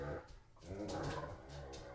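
A small dog whimpers and growls while playing with a bigger dog, low rumbling growls and whiny vocal bursts up close, faint and continuous with a brief dip.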